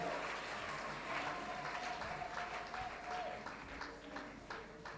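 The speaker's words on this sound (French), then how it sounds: "On acclame alors très fort pour cette parole." A church congregation claps loudly and steadily during a service, a dense, sustained applause that fills the room for several seconds with a faint held tone underneath.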